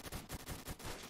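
Rapid gunfire in Roblox Phantom Forces rattles off as a quick run of about six evenly spaced shots, faint and distant, while the player is hit.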